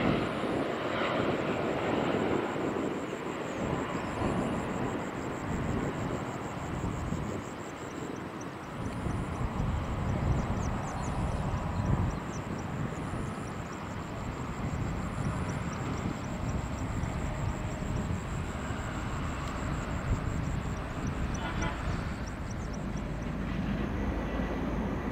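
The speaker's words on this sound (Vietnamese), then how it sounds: "Và đây là chiếc máy bay thứ 3 trong đội bay Freebus mà hãng Vietjet Air thuê trong đợt này." Vietjet Air airliner leased from Freebird, registration TC-FBV, roaring steadily with loud jet engine noise close by for the whole stretch, a broad continuous rumble with high whine tones above.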